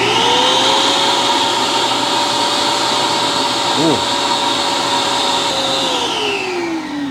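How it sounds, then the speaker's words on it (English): Shop vacuum sucking out an air conditioner's condensate drain line, a loud steady whine and roar that runs throughout, its pitch settling briefly before the motor begins to wind down, with one short exclamation from a voice. "now I'm going to turn on my vacuum"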